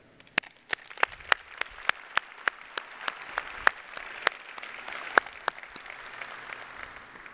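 Audience at a port's annual state-of-the-port address applauding, with sparse, distinct claps rising into a light spread of clapping that carries on steadily.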